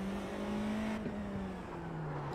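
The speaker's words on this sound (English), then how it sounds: "Here with the new Porsche GTP car at Daytona." Porsche GTP prototype race car in the iRacing sim at Daytona, its engine droning steadily at high revs with a slight pitch dip midway, loud and continuous with no talk.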